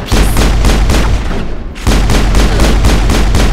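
Sustained heavy gunfire and booming blasts in the Mass Effect video game, a dense loud barrage with a brief lull midway before the shooting resumes.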